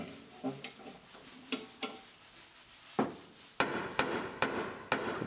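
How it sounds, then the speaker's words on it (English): Hammer blows strike a steel truck frame, a 2006 GMC Sierra being straightened after a door impact, in sharp separate hits, irregular at first and then a quicker, louder run, with no talk. "As we hammer, those kinks come out and the piece moves out"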